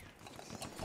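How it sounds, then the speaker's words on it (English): Horse hooves clip-clop briefly in Battlefield 1, a few quick faint hoof beats under the game's background sound. "There's a guy on a horse there"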